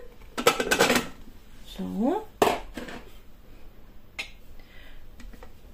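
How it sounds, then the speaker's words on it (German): A steamer basket clatters into place in a Thermomix-style cooker and peeled, cut sweet potato pieces drop in, giving a few sharp hard clanks and knocks close by, with a brief spoken word between them. "ich hänge jetzt hier den Gareinsatz ein und dann kommen die Süßkartoffeln dazu"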